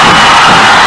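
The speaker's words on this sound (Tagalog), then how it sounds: "Crowd cheering on their feet para sa Tigers." A basketball crowd in a packed gym roars and cheers for the Tigers, a loud, dense wall of shouting voices that stays at full strength for the whole second.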